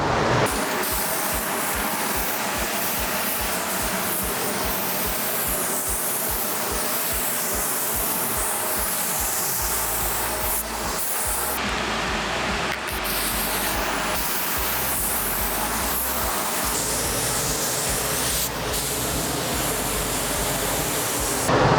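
Primer sprayed onto BMW E30 car fenders: a steady, close hiss of spray that runs almost without a break, with a rhythmic low thumping in the first several seconds and no voices.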